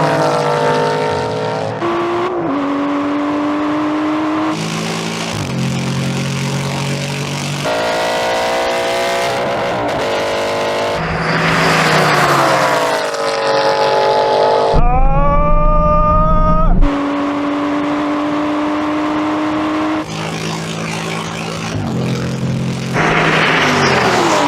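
An Aston Martin and a racing car run a drag race, with loud, continuous engine roar rising and shifting through gears, sharp revving pitch sweeps, and a brief higher whine midway, close and dominant throughout.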